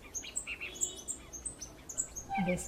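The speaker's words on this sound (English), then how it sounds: "This noisy little bird is a loggerhead kingbird" A loggerhead kingbird, an island-endemic flycatcher subspecies, calls in a rapid series of sharp, high chirps and twittering notes, fairly close over a faint outdoor background, with a lower squawk at the end.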